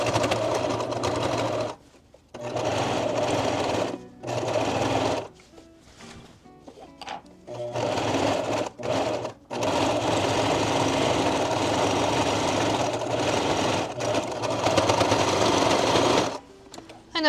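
Sewing machine stitching a blind hem, running in bursts of fast, even mechanical chatter, loud and close, broken by short pauses and stops before resuming.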